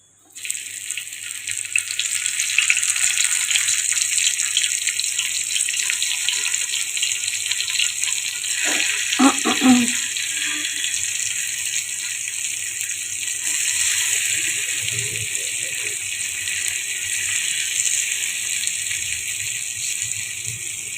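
Masala-stuffed okra (lady finger) frying in oil on a dosa pan gives a steady, fairly loud hiss throughout, with a brief burst of clatter midway as pieces are placed, and no talking.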